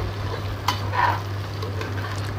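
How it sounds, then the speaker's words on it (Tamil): Lentils roast in oil inside a clay mud pot, giving a soft, quiet sizzle with a couple of faint scraping stirs and a steady low hum beneath. "இப்போ பாத்தீங்கன்னா பருப்பு நல்லா வறுபட்டுருச்சு"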